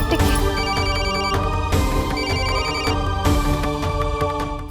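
A telephone ringtone plays loudly and continuously, its bright repeating melodic pattern cycling without pause, close and clear with no talk over it.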